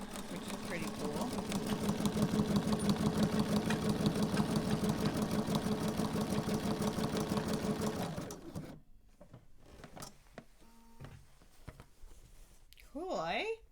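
Bernina sewing machine running a zigzag stitch with a twin needle, a steady fast rhythmic whirring hum for about eight seconds before stopping, followed by quieter handling noises and a brief voice.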